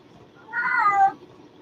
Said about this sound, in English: that is the cat.